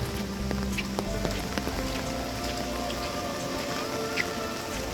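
Steady rain patters across surfaces, a dense continuous hiss with scattered drop taps, fairly close and even throughout.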